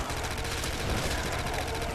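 Rapid gunfire in Call of Duty custom Zombies on World at War, mowing through a crowd of zombies, a continuous loud burst of shots with a voice talking over it.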